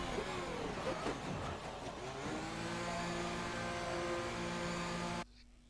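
A race car in a racing video game engine hums and revs as it enters the pits, the tone dropping to a steady settling drone before cutting off abruptly.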